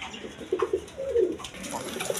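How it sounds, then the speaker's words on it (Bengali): A pair of yellow Bombay pigeons coo softly nearby, a short run of three quick low notes followed by a longer rolling coo, faint against a quiet background. "দর্শকবৃন্দ, এইখানে এক পেয়ার বোম্বাই কবুতর আছে"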